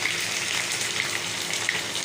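Chicken pieces drop into browned onions in a hot pan for biryani, giving a steady, dense sizzle and crackle that holds evenly throughout, close and moderately loud with no talk.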